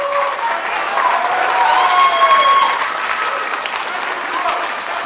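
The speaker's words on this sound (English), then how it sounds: "The crowd fully appreciative of the American Dragon." A wrestling crowd at an international singles match applauds steadily, the clapping swelling in the middle and then easing, with a commentator's voice running over it.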